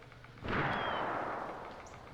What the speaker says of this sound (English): Gunshots. gunshots.